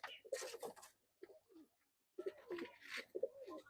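Soft, low coos from Kagzi pigeons in two short bouts with a brief pause between, close by, with no speech.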